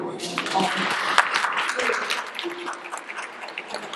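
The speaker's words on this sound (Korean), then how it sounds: "모두 마음을 열고 뜨거운 박수와 격려와 응원을 보내주시길 바랍니다." A seminar audience applauds with dense, sustained clapping that gradually thins and fades, with a voice briefly heard amid the clapping.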